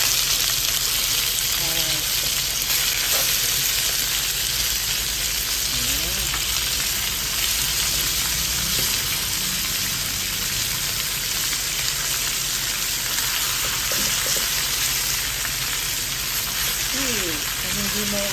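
Stingray pieces fry in spicy oil, giving a loud, continuous sizzle and crackle close up, with a few faint clinks now and then.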